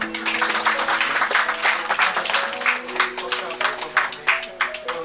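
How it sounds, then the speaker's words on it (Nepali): Wedding guests applauding together, a dense burst of clapping that thins into scattered claps, with music playing underneath. "हामी ताली बजाएर"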